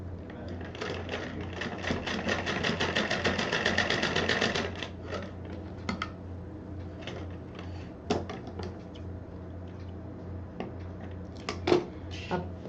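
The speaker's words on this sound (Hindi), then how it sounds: "इस पर अब हम मशीन चला देंगे" Domestic sewing machine stitching fabric for a stylish purse, a steady rapid whirring run of about five seconds followed by scattered clicks and handling knocks, with a voice speaking over parts of it.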